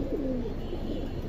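A pigeon gives a soft, low coo once at close range amid quiet background noise at a market stall selling Silver and Bezi line pigeons.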